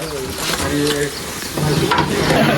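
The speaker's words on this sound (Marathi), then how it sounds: "तर आता मिरच्या बारीक किल्ल्या आहेत त्या टाकत आहेत कढीसाठी" Finely chopped chillies dropped into hot oil for kadhi, a steady loud sizzle that grows busier partway through, with a voice talking over it.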